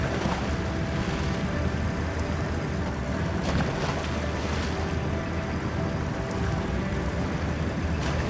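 A Kelpie amphibious vehicle drives across a lake, its steady engine drone and rushing water and spray holding constant and loud with wind buffeting throughout.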